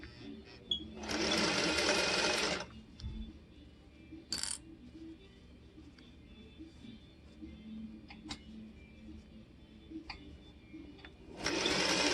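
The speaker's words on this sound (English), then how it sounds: "take it to the machine and sew right down there" A sewing machine stitching patchwork fabric in two loud close bursts, one near the start and one at the end, with quiet room sounds and small clicks between them.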